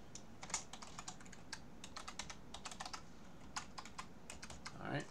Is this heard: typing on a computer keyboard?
yes